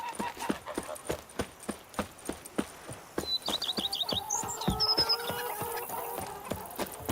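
Horse hooves clop steadily in The Witcher 3 as a mount is ridden, a regular beat of hoof strikes with birds chirping and a tonal game sound rising over them.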